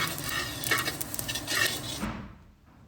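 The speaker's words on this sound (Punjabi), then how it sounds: "ਆਪਾਂ 1 ਕਿਲੋ ਆਟਾ ਲਿਆ ਵਾ ਇਹਨੂੰ ਆਪਾਂ 10-12 ਮਿੰਟ ਦੇ ਵਿੱਚ ਸਲੋ ਗੈਸ ਤੇ ਰੋਸਟ ਕਰਨਾ" Flour being roasted in a pan over a low gas flame, heard as steady scraping stirs and light clinks of a utensil against the pan with a faint sizzle, close and alone, stopping abruptly near the end.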